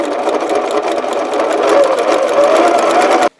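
Sewing machine running steadily while stitching a quarter-inch seam on a paper-pieced log cabin quilt block, a close, continuous rapid clatter that stops abruptly at the end.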